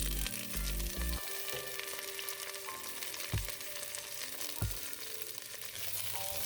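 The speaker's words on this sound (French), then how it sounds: "On va mettre un peu d'huile dans la casserole et je vais y ajouter les légumes." Vegetables sautéing in oil in a saucepan, a steady close sizzle and crackle throughout, with a couple of soft stirring knocks from a utensil.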